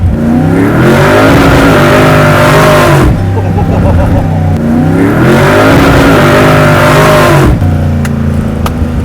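A 1,000-horsepower 605ci HEMI big-block Plymouth Roadrunner accelerating at half pedal, a loud, deep engine roar that climbs through two long pulls with a shift gap between them, heard from inside the car.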